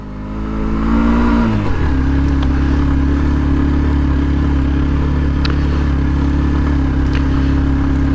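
Motorcycle riding along a hilly mountain road on the way to Boga Lake, its engine revving up then settling into a steady, loud drone close by, with occasional light clatter and no talk.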